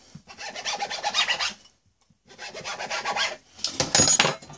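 Knife cutting rolled pastry into strips for a sausage mega mix pie, two bursts of rasping, scraping strokes against a board with a short pause between, close and fairly loud.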